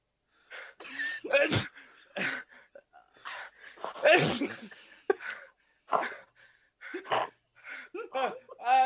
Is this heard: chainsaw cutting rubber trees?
no